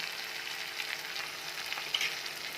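Onion, two tomatoes and onion-garlic masala frying in oil for a village-style mixed vegetable dish, a steady soft sizzle throughout with a few brief clinks near the end, no talking.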